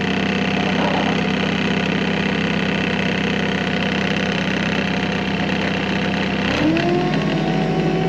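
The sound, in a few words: forklift engine running while operated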